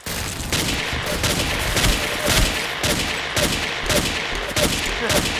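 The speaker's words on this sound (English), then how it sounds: "Are you just shooting randomly, Jared?" Rapid, continuous gunfire from the blocky first-person shooter Ace of Spades, with dense overlapping shots and bursts repeating over several seconds, loud and close with no talking.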